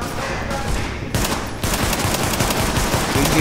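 Rapid automatic gunfire in the video game Tom Clancy's The Division, dense crackling bursts that run almost without pause for a few seconds, loud and close in the mix.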